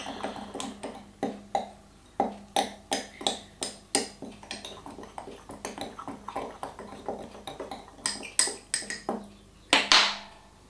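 Ground korma spices are stirred in a container, producing a quick series of small clinks and taps of a spoon against the sides, irregular in rhythm and fairly faint, with no talking.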